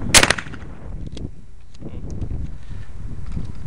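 A single sharp, close gunshot cracks out at an outdoor target-shooting station, then gives way to soft wind and rustling.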